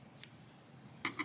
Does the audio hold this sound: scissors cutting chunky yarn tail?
yes